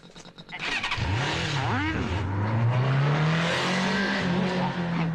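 A car engine starts up and pulls away, rising in pitch as it accelerates steadily and loudly up close, with a brief voice near the start.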